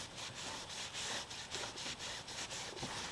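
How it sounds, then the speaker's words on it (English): A rag wipes down the tire of a ZX6R motorcycle during chain cleaning, making steady back-and-forth rubbing strokes in a quick regular rhythm, close by and fairly soft. "The only thing else I'm gonna do is kind of try to wipe down this tire a little bit."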